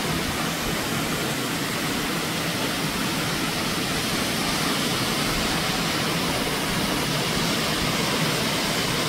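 The Cheonjeyeon waterfalls in Jungmun, Jeju, give a steady, dense roar of falling water, loud and unbroken throughout with no voices over it.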